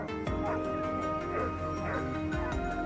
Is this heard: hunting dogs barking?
yes